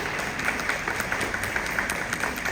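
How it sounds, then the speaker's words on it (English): An audience at a D23 event claps in a brief, steady burst of applause, heard at moderate distance with no voices over it. "Please give her a round of applause."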